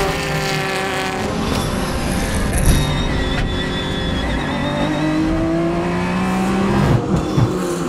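A race car being checked out on track during a Le Mans endurance race weekend: a loud, steady engine drone with rising and falling revs and shifting harmonics, heard close from on board, with no talking.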